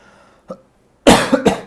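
A small throat sound, then a loud close cough in two or three harsh bursts.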